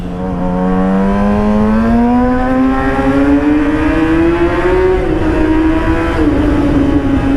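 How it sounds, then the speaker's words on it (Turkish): A Yamaha R6 sport motorcycle with its muffler removed, heard while riding: a loud, close engine tone that climbs steadily in pitch as it accelerates, then dips and holds, with no talk over it. "gördüğünüz gibi hani motorun sesi böyle"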